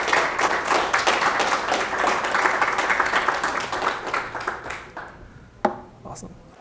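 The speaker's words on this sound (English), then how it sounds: "let's give another round of applause" Sustained applause from a security conference audience, dense clapping that thins out toward the end with a few scattered claps.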